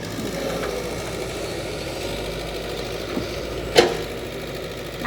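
A car engine idles under the extra load of the air conditioning, giving a continuous, even mid-low drone with a single brief click near the end.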